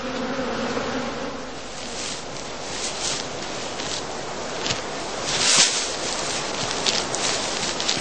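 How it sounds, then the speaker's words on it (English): Many honey bees fly around the entrances of straw skep hives in a heathland apiary during heather bloom, making a dense, continuous buzzing swarm sound close by, with no talking. "The entrances remain open right up to the moment of dispatch to allow the bees unobstructed entry and exit during the day."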